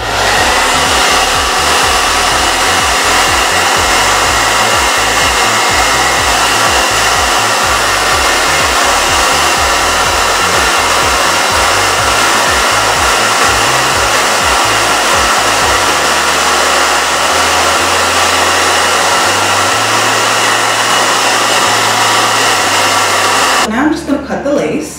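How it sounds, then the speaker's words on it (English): A hair dryer on its cool setting blows over a synthetic HD lace front wig, a loud, steady whirring rush that runs almost the whole time before cutting off near the end. "I'm just gonna take the blow dryer again, use it on cool"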